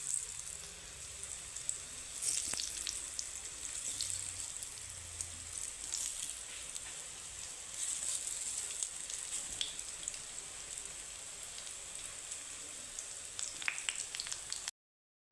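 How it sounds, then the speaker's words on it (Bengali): Vegetarian koftas deep-fry in hot oil as they puff up and are turned, giving a steady, close crackling sizzle with scattered sharper pops that runs almost without a break. "একইভাবে লাল লাল করে সুন্দর করে ভেজে নেব।"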